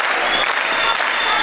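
An audience of classmates at a school reunion bursts into brisk, dense clapping, a continuous rattle of many hands at close range.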